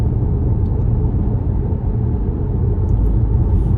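A steady low road rumble of a motorcycle or car with a single headlight approaching on the road, loud and continuous with no talk.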